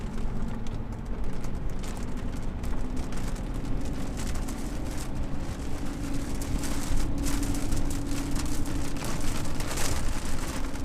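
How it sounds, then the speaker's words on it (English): Heavy storm rain sweeps across a road, a steady dense hiss and roar of downpour that stays loud and constant throughout, with no voices heard. "I don't know if you can see how fast the rain is moving across this road, but it is insane."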